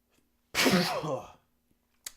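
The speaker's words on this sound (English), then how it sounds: "Oh, I gotta sneeze." A single loud, close sneeze bursts out of near silence and trails off, followed by a faint sniff.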